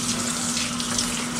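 Pork being washed with lime under running water at a kitchen sink, a steady, close, continuous splashing stream of tap water with no pauses.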